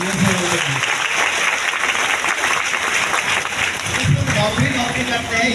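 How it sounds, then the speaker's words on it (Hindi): Hearty round of applause from the crowd at a large DXN business event in Latehar, Jharkhand, dense clapping filling the whole stretch with some voices mixed in. "एक जोरदार ताली सारे"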